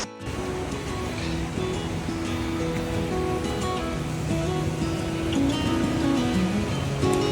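Loud, steady roar of a waterfall on the Four Waterfalls Walk in the Brecon Beacons, Wales, a dense continuous rush of falling water close by that fills the whole clip without pause.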